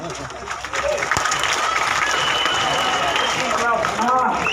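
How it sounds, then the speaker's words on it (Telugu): An audience claps in a hall, a broad, steady wash of applause that starts a little softer and then holds level, with a sharp single crack early on and faint tonal sounds in the background. "నేను 1, 2, 3 అంటాను, మీరు నాకు ఒక క్లాప్ ఇవ్వండి."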